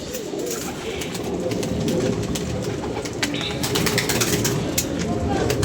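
Pigeons coo in a loft amid a steady rustle of activity, low throaty calls repeating under a constant bed of noise, with a few brief chirps and indistinct voices in the background.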